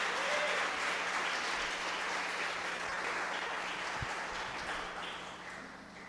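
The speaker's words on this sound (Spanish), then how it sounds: "Vamos a darle un aplauso fuerte al Señor." A church congregation applauds together in a steady wash of clapping that holds for several seconds, then begins to fade toward the end.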